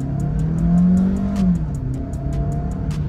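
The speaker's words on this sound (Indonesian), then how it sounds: "kalau misalkan kita coba gas seperti ini ya, kita nggak usah pakai pedal shift atau apa" A rally-styled modified Suzuki Fronx with automatic transmission, its engine revving under throttle, rising in pitch then easing back, loud and close with a steady rhythmic ticking above the drone.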